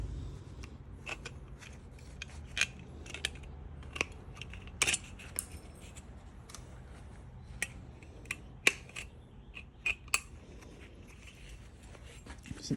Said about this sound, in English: Now you come into this corner right here of the metal. Cut at the 45-degree angle out.